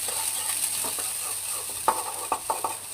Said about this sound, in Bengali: এরপর তেলে পেঁয়াজ দিয়ে ভালো করে ভেজে নেব।